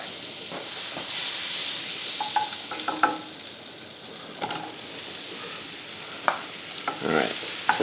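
Mushrooms sautéing in oil in a pan, a steady close sizzle and hiss with occasional stirring clicks and scrapes throughout, no voices.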